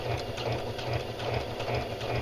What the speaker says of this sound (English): All right, I'm edge stitching around.